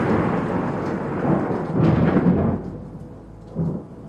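A stormy late-summer dusk with a loud, sharp crack of thunder rolling into a long rumble over steady falling rain, fading out before a second, softer boom near the end.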